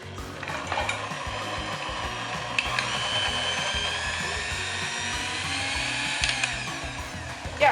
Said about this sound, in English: We're using our electric beater to go and mix this all nicely.